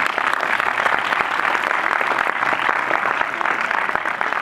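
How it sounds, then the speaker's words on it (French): Sustained applause from a theatre audience at the close of a magic show fills the whole stretch, an even crackle of many clapping hands without any speech. "on peut applaudir encore"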